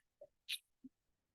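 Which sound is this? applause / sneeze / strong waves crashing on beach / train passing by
sneeze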